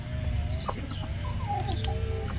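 Sebright hens and a rooster cluck in short, scattered calls close by, with a steady barnyard hum underneath and no talking.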